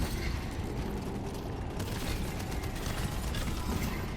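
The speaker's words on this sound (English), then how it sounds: "We're going to throw out the turret here if we can." Quiet mechanical ratcheting and gear-like clicking as a turret is deployed in the game Abyss, a steady low clatter under ambient game noise.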